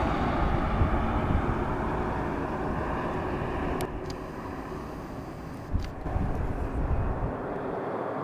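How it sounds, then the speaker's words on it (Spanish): A United Airlines airliner at Madrid-Barajas airport T4 gives a steady, loud broadband engine roar that holds throughout, easing slightly partway, with a brief bump of added noise near the end. "Tenéis el avión de United Airlines."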